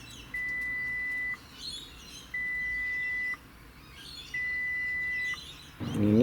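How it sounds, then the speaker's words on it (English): Mitsubishi Pajero factory alarm arming with three evenly spaced electronic beeps, each about a second long, clear and fairly close over faint background hiss, followed by a brief rustle at the end. "you're going to hear a number of beeps that's going to signify that the alarm"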